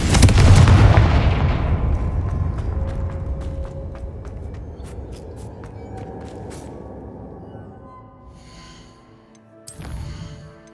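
Confringo fire spells in the Hogwarts Legacy video game set off a heavy booming blast that rumbles and slowly decays, with crackling debris and a smaller burst near the end, loud and without talk.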